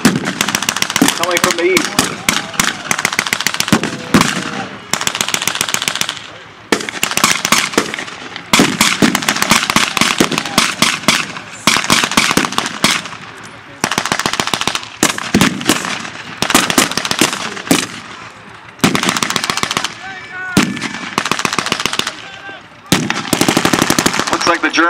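Rapid machine-gun bursts and rifle fire crackle through a World War II battle reenactment at Iola, loud and close, with dense overlapping volleys and short gaps as someone narrates over the shooting.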